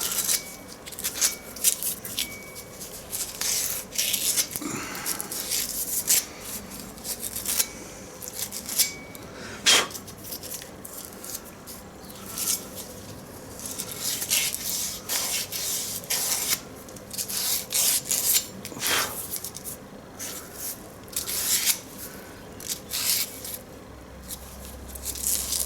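Emery cloth is rubbed inside a tractor PTO shaft to take off burrs, making quick scratchy rubbing strokes close by. The strokes come in irregular bursts with short pauses between them.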